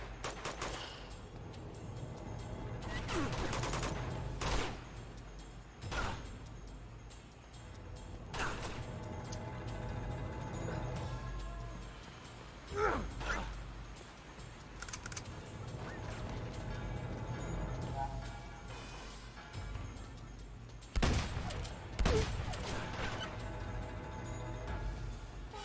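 Gunfire in the action video game Uncharted crackles through a busy game mix, with bursts of shots and sharp impacts scattered across the span over a constant background bed.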